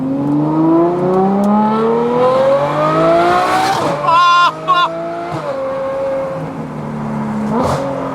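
A tuned Ferrari with an F1-style exhaust starts up and revs hard, its engine note rising through repeated climbs, then a sharp crackle and a drop back to a lower, wavering idle, loud and close.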